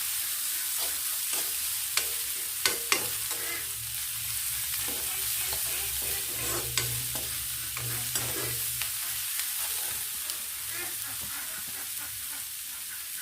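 Ginger garlic paste fries in a hot pan, giving a soft, steady sizzle broken by several sharp scraping knocks as a utensil stirs it, all fairly quiet and close, with no one talking.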